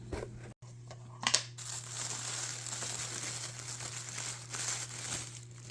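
Packing tape crinkles and tears while an eBay package holding an antique Tam O' Shanter coin purse is unwrapped. The scraping and crackling runs steadily under a low hum, with a brief louder rip near the start.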